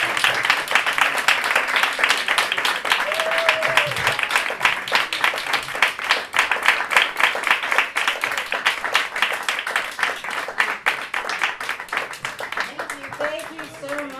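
An audience applauds after a set of live storytelling, a dense, steady wash of clapping held at an even level for the whole stretch, with a few voices faintly audible beneath it.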